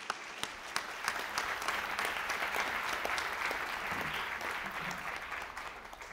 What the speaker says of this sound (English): let's welcome him with very warm applause.